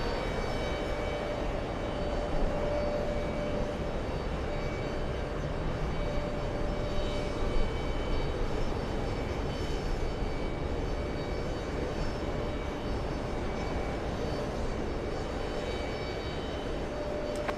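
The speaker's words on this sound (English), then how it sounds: "We have a Delta Airlines Delta 203 flying in from Athens." A Delta Air Lines airliner, flight 203 arriving from Athens, gives off a continuous broadband engine roar with a faint whine, steady and moderately loud, with no voices.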